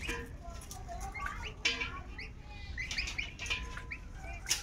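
Young goose goslings peep and chirp in short high calls, scattered and fairly close, over a low background hum with faint talk nearby.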